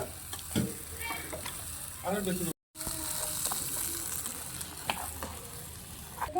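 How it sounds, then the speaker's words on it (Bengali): Miniature pan of Basanti pulao rice and chicken being stirred, scraping spoon strokes over a soft sizzle, close up, with a brief dropout midway and a voice faintly in the background. "নাড়াচাড়া করে নেবে একটু।"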